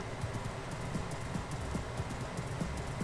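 Horse hooves clip-clop in Minecraft, a steady run of soft, evenly paced thuds with faint clicks on top, quiet and without talk.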